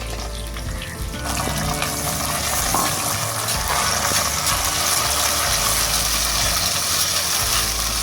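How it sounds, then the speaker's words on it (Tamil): Tomatoes fry with softened onions in a pan for a village-style spicy fish curry, giving a loud, continuous close sizzle with occasional stirring scrapes. "வெங்காயம் வதங்கிச்சு. இப்போ தக்காளி போட்டுக்கலாம்."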